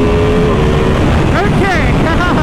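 Ducati Panigale V2 motorcycle accelerating hard in fourth gear roars loudly and continuously from close by, its pitch climbing then dropping briefly with shifts amid heavy wind rush, while a voice talks over it.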